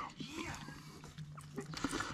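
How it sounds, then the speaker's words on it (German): A dog in a home kitchen gives brief whimpering whines close by, partly under people talking. "Jetzt ist der Hund auch noch da."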